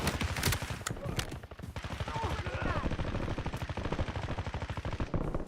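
Rapid automatic gunfire from the Warzone video game rattles nearly nonstop in dense bursts, with game voices faintly audible underneath.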